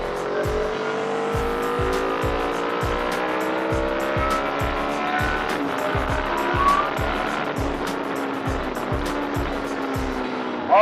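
A Yamaha R25 motorcycle engine revved in short, even throttle blips after a fairing-mounted regulator swap, loud and close, with a rising and falling whine and regular pulsing beats for about ten seconds.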